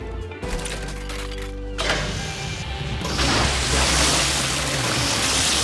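Cartoon sea monster splash park switching on: a mechanical whir and clunk give way to a loud, steady rush of spraying water that builds and holds to the end.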